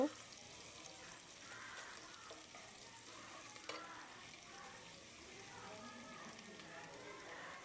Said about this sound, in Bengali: পেঁয়াজটা ভালোভাবে একটু নাড়া নাড়া দিয়ে ভেজে নেব